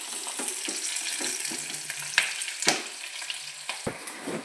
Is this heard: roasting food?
yes